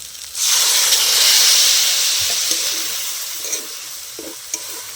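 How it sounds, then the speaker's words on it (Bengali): Water poured into a pan of frying cauliflower and potatoes sets off a loud, bright hiss and sizzle that surges at once and slowly settles, with a few soft stirring clicks near the end, no voices. "এবার অল্প করে জল দিয়ে ফুলকপি আর আলুটা আমি সেদ্ধ করে নেব"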